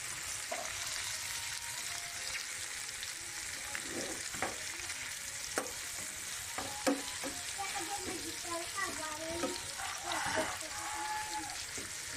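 Hotdogs frying in a pan for a home breakfast, a faint, steady crackle and hiss running throughout with occasional soft clinks and scrapes, and a little quiet talk in the background.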